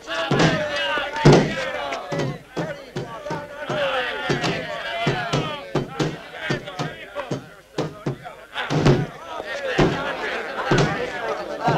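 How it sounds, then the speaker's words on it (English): Heavy, repeated blows batter a door in an old western action scene, a rhythmic series of sharp, loud slams and thuds mixed with voices and scuffling. "Knock the door down."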